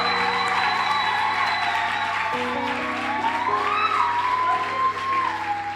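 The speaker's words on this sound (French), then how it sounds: "Si tu es dans la joie, acclame très fort le Seigneur." Church congregation cheering and applauding during a worship service, a steady wash of clapping and voices under sustained music with a held melodic tone rising and falling.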